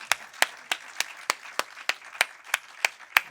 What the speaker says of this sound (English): Now we give him a big round of applause.